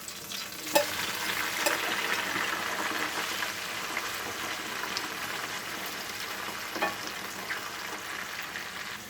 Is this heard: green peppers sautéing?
yes